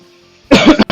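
After a moment of near silence, a person coughs loudly and harshly, two or three rough bursts close up.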